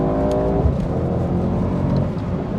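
A Mercedes-AMG SL55 V8 sports car engine roars loudly and steadily, its pitch climbing at the start as it accelerates, with constant road and engine rumble throughout.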